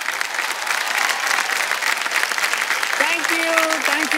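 Loud, dense applause from a large studio audience on the game show Kaun Banega Crorepati, steady throughout, with a brief musical fanfare rising near the end.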